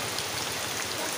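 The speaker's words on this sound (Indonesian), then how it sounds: "Keramiknya ini langsung pakai air hujan. Hujan terus kayak gini." Rain falling steadily outdoors during ceramic tiling work, a continuous hiss of drops striking surfaces, moderately loud, with no talk.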